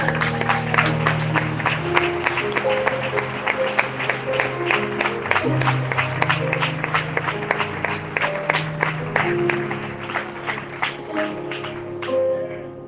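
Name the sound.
congregation applause in church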